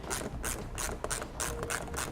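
A ratchet drives bolts back into a vehicle belly pan during a tail light wiring kit install for a towed 2018 vehicle, producing rapid, steady, close clicking strokes.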